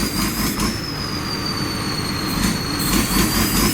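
A heavy six-cylinder well-drilling rig engine roars steadily with a loud, rumbling exhaust, joined by a thin high-pitched whine that holds throughout.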